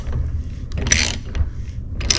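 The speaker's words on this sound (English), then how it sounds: "and then you're going to start cranking on it. And this thing is going to flare it kind of gradually as it rolls around." A hand-cranked flaring tool rolls a flare onto stainless steel tubing for lowrider hydraulics, giving close, irregular mechanical clicks and grinding ratchet bursts over a low steady hum.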